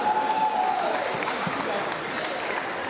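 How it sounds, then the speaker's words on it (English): Applause from an audience at a Melbourne community celebration as a second-place winner is honoured, a steady broadband wash of clapping lasting the whole moment, with a brief tone at the start and voices mixed in. "Well done, round of applause."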